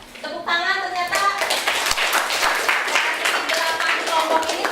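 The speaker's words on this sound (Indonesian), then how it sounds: "Tepuk tangan ternyata." Clapping in a classroom as students applaud together, a brisk patter of many hands mixed with children's voices talking and calling out throughout.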